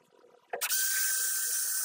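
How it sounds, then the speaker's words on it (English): A power drill with a 1/8-inch bit bores a pilot hole during installation of a SNOUT, Bio-Skirt and Turbo Plate, starting after a short clunk and then whining steadily, close and loud, with no talk. "So we're going to use an 1/8-inch bit for a pilot."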